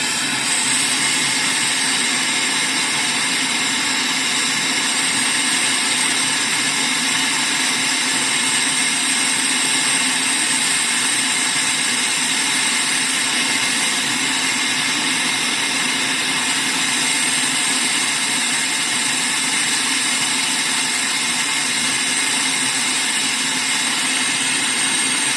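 A SUGON 8650 hot air rework station set to 300 degrees with airflow at 150 and a vent nozzle fitted blows a steady, close hiss of air with a faint high whine, continuous and unbroken for the whole stretch.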